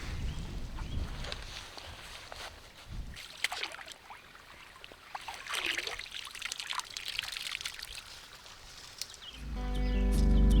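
Chub slipped back into river water, with light splashing, trickling and sloshing bursts rising and falling over several seconds at close range, then a louder rumble at the end.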